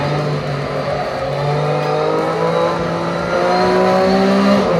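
A car in a racing simulator video game drones loudly with a steady engine tone that slowly climbs in pitch as it accelerates, with faint tire noise underneath and no talking.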